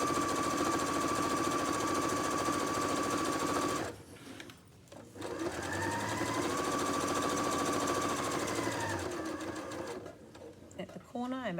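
A sewing machine stitches an apron, its rapid, steady whir running in long bursts, pausing briefly for a back stitch, then resuming before stopping again near the end.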